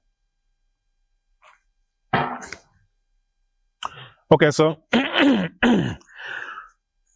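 During an interview, a man clears his throat and coughs once, followed by a short pause and then a brief bit of talk.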